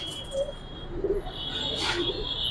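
Giribaz and coloured pigeons coo softly in a few brief, low, throaty calls over a faint steady background hum.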